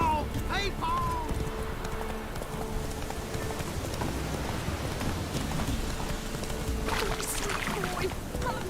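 Roach the horse in The Witcher clip-clopping at a steady pace amid rain and ambient game sounds, with a voice talking over the hooves.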